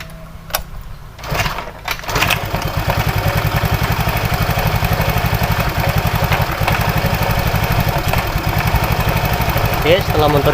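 A Honda Vario scooter engine idles close by with a steady, even putter after a few seconds of clicks and rustling at the start, running continuously at a constant loud level.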